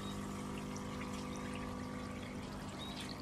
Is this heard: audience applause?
no